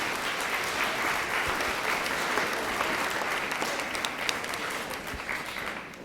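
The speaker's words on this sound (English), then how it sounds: "one more big round of applause for How Fisher Went to Skyland" Sustained, dense applause from an audience at a school performance fills the space, steady and loud throughout before easing slightly at the end.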